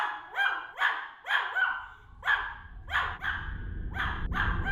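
A Pomeranian barks sharply about seven times in a quick, uneven sequence, close and loud, with a soft low rumble creeping in beneath the later barks.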